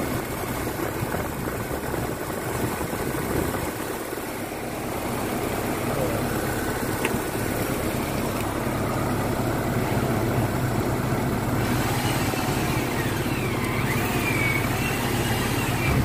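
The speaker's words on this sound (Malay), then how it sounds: "Dah hidup enjin" A Perodua Kembara, old model, idles with a steady low engine drone after an oil pan gasket job, running evenly and continuously at close range, with someone speaking occasionally over it.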